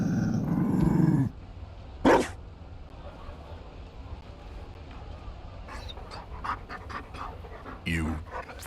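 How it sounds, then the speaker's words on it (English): In the Dragon Age Inquisition game, a Mabari dog pants heavily and close for about a second, then gives a short growl. Later come softer panting bursts, and a voice speaks partway through. "You found a dog?"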